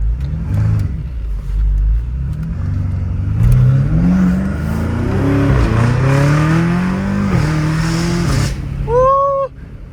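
A 650 HP BMW M5 Competition with a straight-piped titanium exhaust revs loudly and climbs through rising gear pulls on a mountain road, its deep exhaust note rising and falling up close, ending in a brief high squeal.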